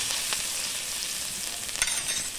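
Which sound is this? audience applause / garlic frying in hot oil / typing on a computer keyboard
garlic frying in hot oil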